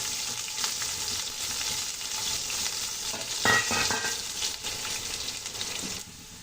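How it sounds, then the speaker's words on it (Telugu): Onions and garlic sizzle and fry in a pan for Telugu-style gurugaaku pappu, with a steady broadband hiss and occasional stirring scrapes, close and continuous with no talk. "ఆనియన్స్ వెల్లుల్లి అవి వేసుకుందామండి ఆనియన్ గోల్డెన్ బ్రౌన్ కలర్ వచ్చేంత వరకు ఫ్రై చేసుకుందామండి"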